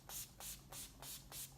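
Decay All-Nighter setting spray is misted onto a face in four quick, soft hissing pumps spaced evenly apart, faint and close with no talking.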